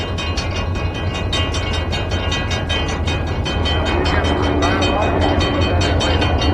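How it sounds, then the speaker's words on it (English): A train passes close by, a loud, steady rumble with rhythmic clatter from the wheels and cars that holds constant throughout. "Kids love trains, and for good reason. They're big, powerful, and loud."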